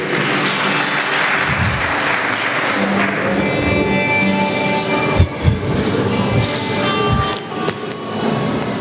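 A church congregation claps loudly and continuously, a sustained dense wash of applause with a few sharper knocks and thumps near the middle.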